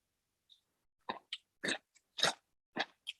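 Spicy fried grasshopper chips crunch between the teeth in a quiet room, a short series of crisp bites and chews, close and fairly soft, with no talking.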